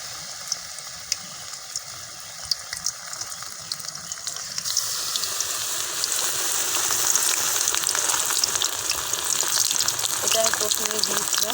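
Mushroom chops frying in hot oil, a steady sizzle that swells louder and brighter partway through as more pieces go into the pan, continuing as a dense crackle to the end.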